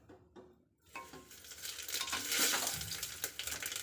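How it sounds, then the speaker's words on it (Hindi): Cumin seeds dropped into hot mustard oil in a pan for an aloo wadiyan curry, a brief clatter giving way to a swelling, steady sizzle and crackle that stays close and fairly loud, with no talking. "मैं जीरा पा रही हूँ"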